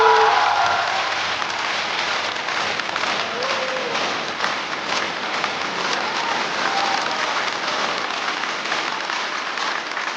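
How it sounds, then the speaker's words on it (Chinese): A studio audience at a Chinese stand-up comedy show applauds to welcome a comedian, with dense, steady clapping that fills the whole stretch at full loudness and no voices over it. "掌声欢迎"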